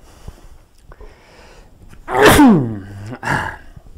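A man lets out one loud, close sneeze after a faint lead-in, followed by a short sharp exhale or sniff, heard in a quiet room.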